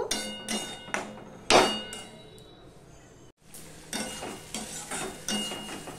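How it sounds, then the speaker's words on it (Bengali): Masala sautéed and stirred in a pan for a mourola fish tok chorchori: a spatula knocks and scrapes against the pan in uneven strokes, with a sharp clack near the start, over a soft sizzle. "এবার আমি ভালো করে কষিয়ে নেব"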